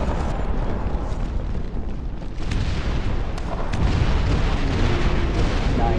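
Incendiary bombs explode in the RTS game Dust Front as a continuous, heavy rumbling roar with scattered sharper bursts, loud and sustained throughout without any talking.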